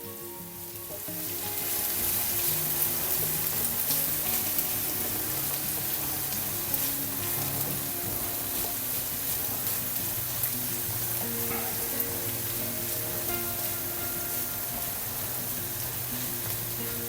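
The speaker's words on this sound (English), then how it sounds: "We keep frying onion." Chopped onion frying in a pan for a sailor-style pasta, a loud, steady sizzle that keeps going close up, with no talking.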